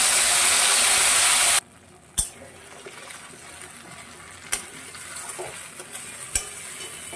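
A ground paste of boiled ingredients goes into hot oil already frying cardamom and cinnamon, a loud rushing burst at first giving way to a softer steady sizzle with a few sharp clacks of a spoon against the pan.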